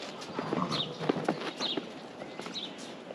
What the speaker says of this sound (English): now we finally come to the big part of the morning, letting in the horses